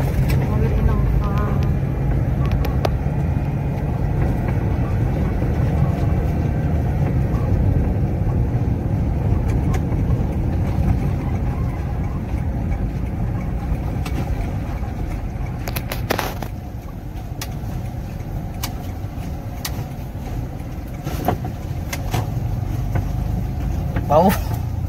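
A Toyota Innova with a manual gearbox drives along, its engine and road noise a steady low rumble filling the cabin, with a few brief knocks near the end and people talking inside now and then.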